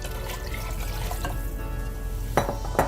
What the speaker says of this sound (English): You want to add just enough water to cover the meatballs because they need to cook.